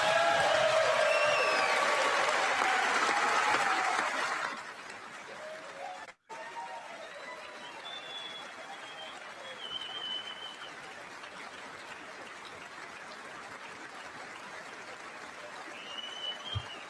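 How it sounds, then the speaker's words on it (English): A crowd at the State of the Union address applauds a Medal of Honor presentation. Loud, dense clapping fills the first few seconds, then cuts to a quieter stretch with faint murmurs and background noise. "The Democrats clapping."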